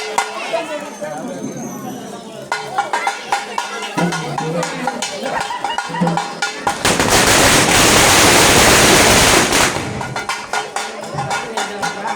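Firecrackers burst in dense rapid crackling volleys around a temple during a festival enactment of a burning palace, sharp pops at first giving way to a loud continuous roar of explosions, with a crowd chattering nearby.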